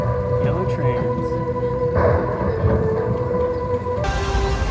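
Yellow amusement park ride trains run at Six Flags Fiesta Texas, a steady rumbling roll with mechanical hum that swells midway, heard at moderate distance amid park ambience.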